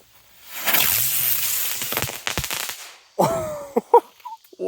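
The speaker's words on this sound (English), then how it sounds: "Oh, this is the bomber spinner." A bomber spinner firework goes off on the ground after the Fourth of July, a whooshing hiss followed by a quick series of sharp crackling pops and bangs, loud and close.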